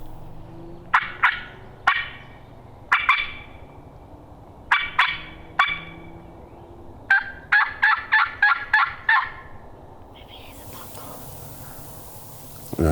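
Wild turkeys gobbling from their roost trees on Minnesota public land, repeated rattling bursts in clusters, fairly close and outdoors, with a faint whispered voice near the end.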